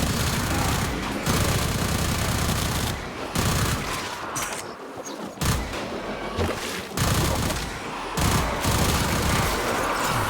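Sustained bursts of rapid weapon fire from shooting in Warframe, loud rattling volleys broken by brief pauses, then resuming in dense fusillades through most of the stretch.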